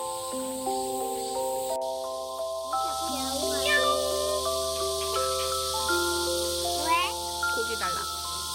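A cat meows several times, fed meat during a seaside family trip on the west coast at a fishing harbor, with a voice and adult talk mixing in over steady outdoor background noise.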